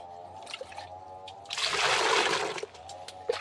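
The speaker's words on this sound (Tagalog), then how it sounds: "Lagyan lang ng tubig." Water poured into an empty container, a broadband splashing pour lasting about a second, fairly close and moderately loud, with quieter handling sounds before and after.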